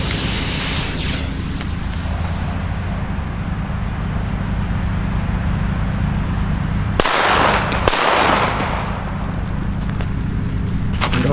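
Two New Year's Eve firecrackers bang sharply near the seven- and eight-second marks, loud and close, over a steady outdoor rumble and scattered distant crackling.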